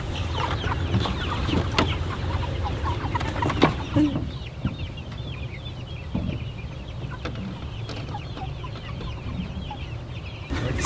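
Small chicks in a cozy bed of hay at a farm, with a steady wash of busy cheeping and clucking bird calls close by, running continuously with no talking.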